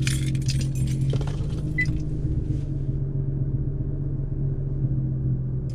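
A car running on pure E85 fuel idles with a steady low rumble after starting, with a faint jingle of keys near the beginning.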